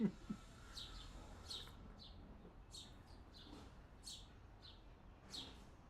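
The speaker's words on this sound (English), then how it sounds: "some birds in the backyard" Small birds chirp in a backyard, short bright calls repeating every second or so at moderate distance over a faint background hum.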